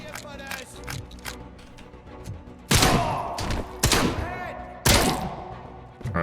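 Heavy-recoil gunfire in the RoboCop: Rogue City video game: a few loud, booming shots with echoing tails come over busy game background sound and a voice talking.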